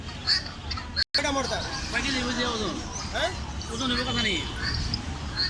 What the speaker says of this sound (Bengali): এখানে অনেক সুন্দর সুন্দর পাতিহাঁস এবং রাজহাঁস দেখা যাচ্ছে। হাটে প্রচুর পরিমাণ রাজহাঁস পাতিহাঁস উঠে।